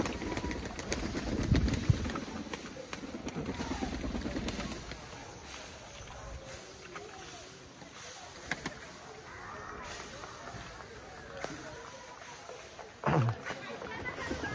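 Domestic high-flying pigeons from Khulna coo and flutter nearby in an outdoor loft setting, with soft rustling, occasional wing bursts, and a person talking over much of the sound.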